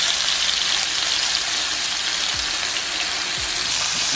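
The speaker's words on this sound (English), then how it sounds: "I'm gonna go ahead and brown this on the side." Beef pot roast browns in a hot pan with a loud, continuous, close sizzle and hiss, broken by a couple of faint low knocks.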